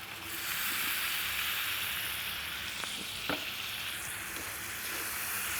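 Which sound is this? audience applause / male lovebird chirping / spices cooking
spices cooking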